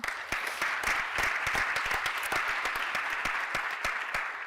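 Applause for an outgoing board president at a school board session, a modest group clapping with distinct individual claps standing out, steady throughout.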